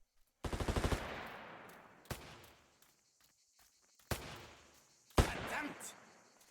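Gunfire in the video game Martha is Dead: an opening rapid machine-gun burst followed by three separate loud shots at irregular intervals, each ringing out with a long echoing decay, no voices over them.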